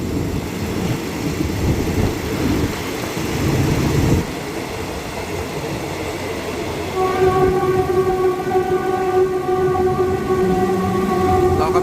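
A commuter train in Bangkok, Thailand, rumbles past at close range near the Asok intersection, then its horn blares in a long, steady multi-tone blast over the rolling clatter.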